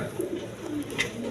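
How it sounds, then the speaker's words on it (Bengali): Coloured Raj Golla pigeons give a steady run of low, throaty coos, close and alone, with a brief higher chirp partway through. "একদম লাল গিয়ারের কবুতরগুলা"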